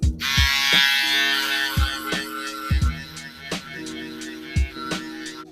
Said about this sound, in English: Now we'll go in our shaver and clean up all the stubble beneath.